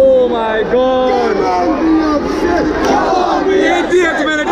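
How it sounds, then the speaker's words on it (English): A football stadium crowd at an Indian Super League match roars and chants loudly and continuously, a dense wall of massed voices rising and falling close by. "This crowd is getting riled up!"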